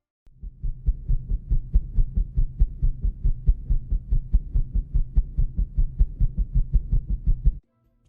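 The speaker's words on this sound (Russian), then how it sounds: "Но я подумал и решил этот звук воспроизвести с помощью звука вентилятора." A heartbeat-like game sound effect made from a sped-up recording of a large-bladed fan gives steady, rapid low thumping pulses, about three per second, for several seconds before cutting off.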